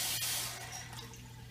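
Water runs briefly and faintly from a tap, a soft steady hiss with a small splash near the start.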